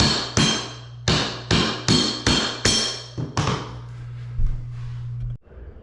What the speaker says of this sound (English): I have the tool on the edge, and I'm going to tap it lightly with the hammer